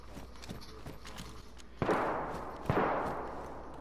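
Gunshots in the video game DayZ, two sharp cracks about a second apart over faint background noise, each trailing off briefly, fairly distant and moderately loud with no talking.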